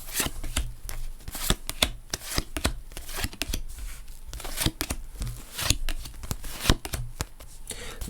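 A deck of tarot cards being shuffled and cut by hand, giving a rapid, continuous run of close papery riffles and flicks at an even volume without pause.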